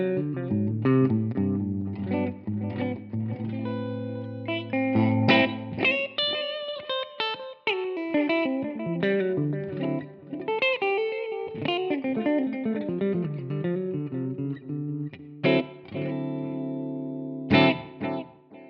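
Clean electric guitar runs through a Line 6 Helix US Super Vibe amp model, with chords and melodic single-note phrases played alone and up close, ringing with a gentle chorus-like shimmer and soft trailing echoes.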